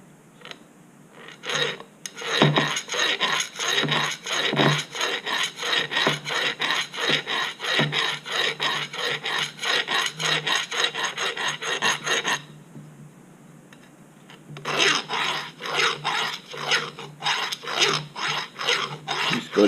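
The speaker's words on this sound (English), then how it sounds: "so all you do is you just take your file" A hand file rasping across an old hatchet head during a restoration, quick rhythmic back-and-forth strokes in a steady run, a brief pause, then more strokes, close and crisp with no talking.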